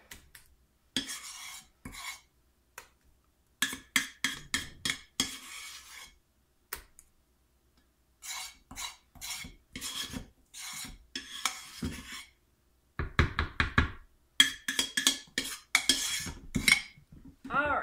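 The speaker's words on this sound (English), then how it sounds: "See how much soap is left when you scrape?" A utensil scrapes hot process soap out of a metal pot in repeated raspy strokes, some short and some longer, with brief pauses in between. The scraping is close and fairly faint, and no voices are heard.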